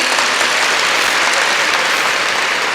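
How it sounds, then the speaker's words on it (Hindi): Loud, dense audience applause at a motivational speech gathering, a continuous roar of many hands clapping together at a steady level throughout. "एक बार तालियां होनी चाहिए"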